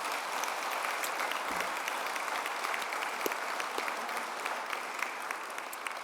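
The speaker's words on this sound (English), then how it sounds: "So let's round a round of applause to all of those thank yous." Steady, dense audience applause at an honouree fireside chat event, a sustained even wash of many hands clapping at moderate distance throughout.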